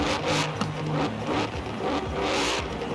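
An upgraded Mercedes-AMG GT engine in the racing game Forza Horizon 4 revs hard and continuously, a loud gritty roar with rising and falling pitch as gears shift, close and alone with no talk.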